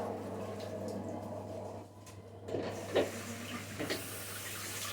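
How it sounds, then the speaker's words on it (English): Baking utensils are washed in warm water at a sink, with faint running and splashing water, a few soft clinks and drips over a low steady hum, close by and quiet, no talking. "Wash on warm water."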